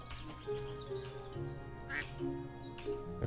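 Duck quacking in the pirate-themed farming video game Seablip, several short quacks in a row, fairly faint, over quiet game ambience.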